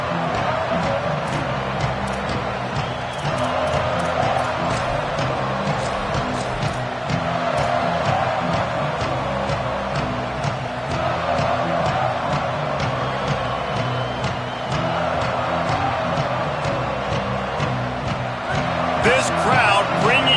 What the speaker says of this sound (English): This crowd bringing an ear-splitting welcome to their visitors.